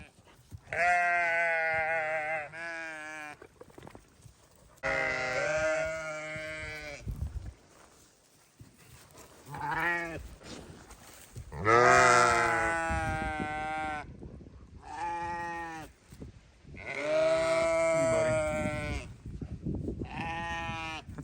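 Sheep, with a big ram among them, bleat repeatedly in a farm pasture, loud, close calls coming in long wavering bursts with short pauses between them.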